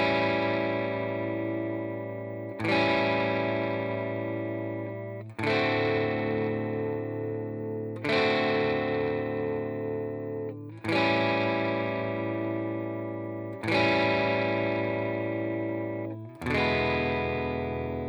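Electric guitar with a distorted, effects-laden tone strums a twelve-bar blues progression in A, each sustained chord struck roughly every two and a half seconds and left to ring, with no voices.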